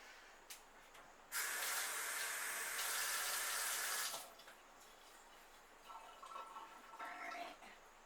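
Tap water runs into a measuring cup in a kitchen sink holding leftover ketchup, a loud steady rush lasting about three seconds before cutting off, followed by faint clinks and handling.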